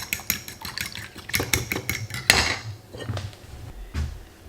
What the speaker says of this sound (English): Now, and let's stir these up.